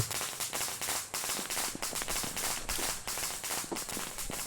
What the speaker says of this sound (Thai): ประทัดกระดังอยู่อย่างนั้นนะครับประทัดอะไรก็ไม่รู้ครับยี่ห้อไหน